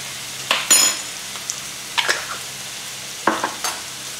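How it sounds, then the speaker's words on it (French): Tomatoes sauté in a pan with a pinch of fennel for stuffed round courgettes. A soft sizzle sits under sharp scrapes and clinks of a utensil stirring against the pan, coming in separate bursts. "Et on fait revenir maintenant les tomates."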